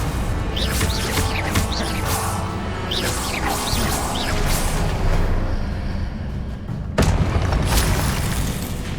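Confringo fire blasts in Hogwarts Legacy erupt as loud, rumbling booms over a constant roar of spell effects, with whistling streaks and a heavy impact near the end.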